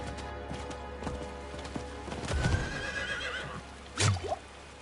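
A horse whinnies in the video game Diablo 4, with a faint clip-clop of hooves and soft dripping ambience beneath, the neigh rising briefly near the end over quiet game background.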